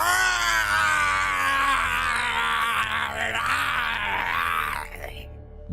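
Goku from Dragon Ball screams in an anime fight, a loud, sustained straining yell with dense harmonics that holds steady for nearly five seconds before cutting off abruptly.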